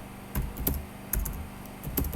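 Keys clatter on a computer keyboard in short bursts of clicks with brief pauses between them, close and moderately quiet, with no talking.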